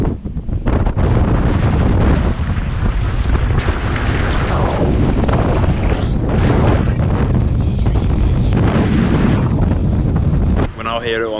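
Strong Reykjavik wind buffets the microphone with loud, continuous roaring gusts and low rumble, briefly easing near the end.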